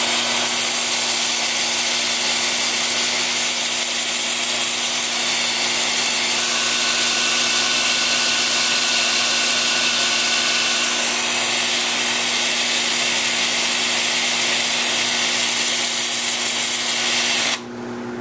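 A 2-inch sanding disc spins against a wooden bowl turning on a lathe, a continuous close hiss and whine with a steady motor hum that holds throughout. It cuts off briefly at the end.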